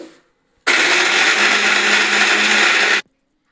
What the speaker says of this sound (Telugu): ఇప్పుడు మిక్సీ పట్టుకునేసాను మసాలా